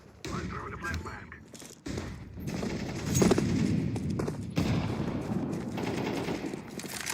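Rapid automatic gunfire bursts in a shooter video game after a flashbang is thrown, with repeated loud volleys and brief gaps.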